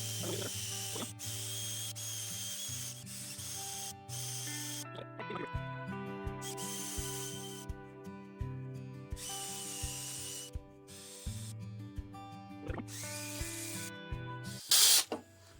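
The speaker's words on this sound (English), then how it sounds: "now I can take my power sander here with my Bosch drill 12 volt, and I can sand this bottom out" A 12-volt Bosch drill drives a power sander attachment against the bottom of a turned cedar vase, giving a steady close motor whine whose pitch shifts as pressure changes, with faint mechanical rattling throughout.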